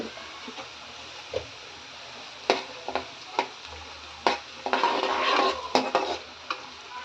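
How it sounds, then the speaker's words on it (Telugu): Mustard seeds and cumin temper in hot oil for fish curry, with a low sizzle, a brief burst of crackling and sharp spoon clicks against the pan. "కొన్ని ఆవాలు అయితే వేస్తున్నాము"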